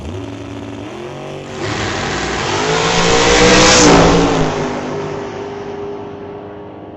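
Dragster launching on a quarter-mile test pass at a drag strip, its engine note climbing in a loud rising sweep that peaks midway as it roars past, then fades into the distance.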